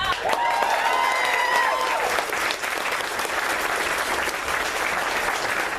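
Dense, steady applause from an audience at a Collin County Democratic Party event, filling the room loudly and evenly for about six seconds before easing slightly, with no speech over it.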